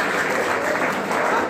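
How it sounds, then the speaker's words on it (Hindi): Sustained applause from a college audience at a National Voter Awareness contest event, a dense, loud clapping that continues throughout the short stretch with no talk. "उसके लिए सब ताली बजा दो यार एक बार।"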